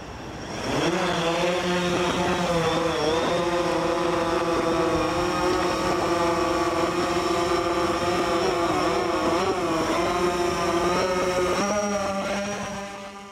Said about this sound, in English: hover the drone up so our payload gets off the ground